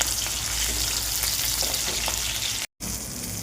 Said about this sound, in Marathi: थोडं मीठ टाकून घेऊ. थोड्या अशा हलवत राहायच्या.